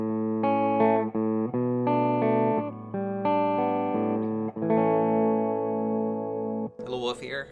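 A PRS SE electric guitar plays a clean, sustained run of notes and chords with both active humbuckers on voice 2, ringing and fairly full, ending with a brief strummed flourish.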